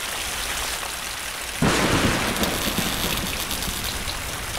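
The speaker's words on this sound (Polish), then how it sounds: "O nie, ale burza. Mam nadzieję, że nie uderzy tutaj żaden piorun." An animated thunderstorm over a fire-station helipad, with steady rain hissing throughout and a sudden loud thunder crash breaking in partway, its rumble rolling on under the downpour.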